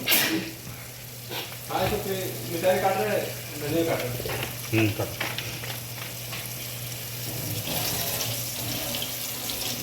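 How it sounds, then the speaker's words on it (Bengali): Boiled chicken being rinsed under a running cold tap in a kitchen, with a steady gush of water and wet handling sounds, close and fairly loud, with a steady low hum underneath. "এটাকে একটু সুন্দরভাবে একটু ঠান্ডা জলে ধুয়ে নিচ্ছি।"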